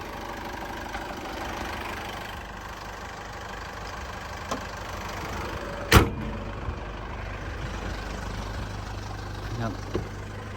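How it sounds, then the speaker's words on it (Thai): A 2014 Isuzu D-Max 3.0 VGS Turbo pickup idles with a steady low diesel rumble close by, broken by a sharp click or door knock midway and a few faint taps. "ฟังเสียงเครื่องยนต์นะครับ"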